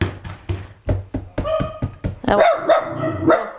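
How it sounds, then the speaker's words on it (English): A Labradoodle puppy barks repeatedly in sharp bursts, close by, mixed with knocking taps on walls, then higher yelping barks toward the end. "We'll make Tippy bark."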